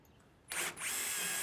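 A power drill drives a fastener into a rain gutter with a sharp, loud whine that spins up, dips briefly, then holds a steady high pitch close by.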